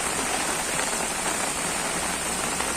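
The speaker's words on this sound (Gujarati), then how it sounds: "જે વરસાદ ધોધમાર વરસી રહ્યો છે" Heavy monsoon rain pours down in Jetpur, Rajkot district, a dense, continuous hiss of water striking surfaces at close range, steady and unbroken throughout with no voices.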